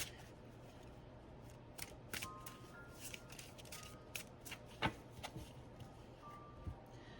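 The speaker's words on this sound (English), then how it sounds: "I shuffle a handful of ways depending on the cards" Tarot cards being shuffled by hand, close and quiet, with a quick run of crisp riffling snaps and soft slides in an irregular rhythm and no talk.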